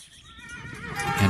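A horse pulling a cart whinnies with a rising, wavering neigh close by, while clip-clopping hooves patter underneath and swell louder toward the end of the brief burst.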